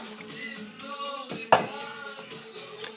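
Water pours into a cooking pot for chicken broth soup, a continuous ringing trickle with a splashy burst midway, close and moderately quiet.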